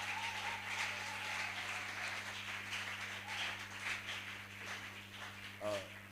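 Church congregation applauding at a service, a steady wash of clapping filling the whole stretch with a low hum underneath and a brief voice near the end.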